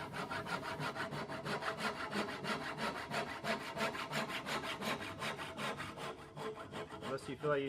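Hand saw cutting waste from a wooden tenon on a pedestal base for a round dining table, with quick, regular back-and-forth strokes rasping close by and no talking.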